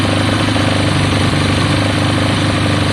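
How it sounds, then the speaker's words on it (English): Kawasaki ZL600 motorcycle engine idles loudly and close with a rough, rapid mechanical pulsing, running continuously as the revs climb while it warms up after a coolant leak fix. "It's sounding better, the revs are going up"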